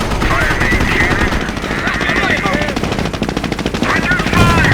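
Rapid machine-gun bursts and heavy tank cannon fire in the Company of Heroes video game, loud and continuous, with battle chatter from unit voices mixed underneath.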